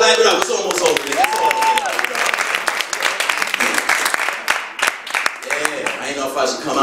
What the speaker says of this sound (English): Clap it up, it's almost over